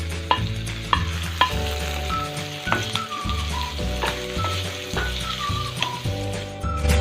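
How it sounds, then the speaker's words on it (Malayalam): Chopped onions sautéing in a pan with green chillies and curry leaves for a Kerala fish molee, a steady close sizzle crackling throughout with repeated sharp spatula knocks against the pan and faint melodic music underneath. "ഇനി നമുക്കിതിലേക്ക് സവാള അരിഞ്ഞതിട്ട് കൊടുക്കാം."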